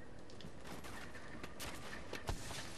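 Gunfire in The Division's Dark Zone, a scattered burst of shots with a sharper crack near the end, fairly faint and brief.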